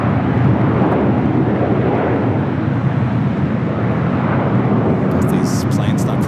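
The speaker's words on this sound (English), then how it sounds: "the 777-300 coming in from Singapore, stopping off there in Tokyo Narita, now heading here to LAX." A Singapore Airlines Boeing 777-300 arriving at LAX from Tokyo Narita fills the air with a loud, steady jet roar and wind rumble, sustained throughout with a brief higher hiss near the end.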